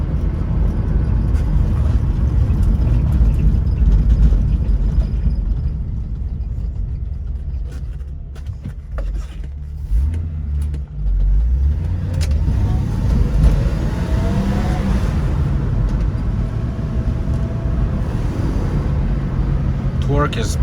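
A BMW E30 325e six-cylinder engine pulls steadily while driving, a loud continuous rumble rising and dipping through gear changes, with someone talking over it from inside the car.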